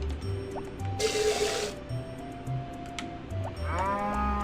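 A cow moos a few times in Harvest Moon: Back to Nature over the looping game soundtrack, with a brief burst of hiss in the middle.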